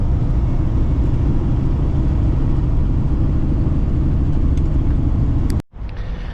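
Loud, steady low rumble from a semi truck cab while driving, continuous for several seconds before cutting off abruptly near the end, leaving a quieter hum.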